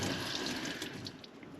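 Tap water runs steadily over fresh mint leaves as they are rinsed, a close, continuous splashing hiss lasting the whole moment.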